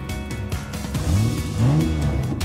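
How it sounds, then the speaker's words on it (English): Race car engines rev at the start of a race, two rising, whining roars swelling one after another over a steady loud motor drone. "Ladies, start your engines!"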